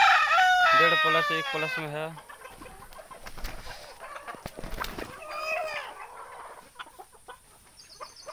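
A desi rooster crows loudly up close on a farm, followed by soft clucking and scattered noises from desi hens about 6.5 months old, with someone speaking briefly in between.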